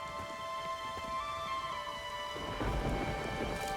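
A thunderstorm in The Witcher 3: a steady wash of rain, with a low roll of thunder swelling near the end.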